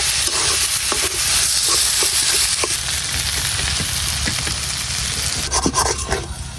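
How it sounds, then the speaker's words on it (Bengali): Green beans and new potatoes frying in a pan over a cooling village stove, a steady close sizzle with scattered stirring scrapes and clicks throughout, no voices. "এখন কিছুক্ষণ ভাজা নিলে কিন্তু তৈরি হয়ে যাবো আমরা সিমের ঘাটা।"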